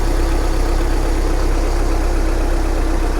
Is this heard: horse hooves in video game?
no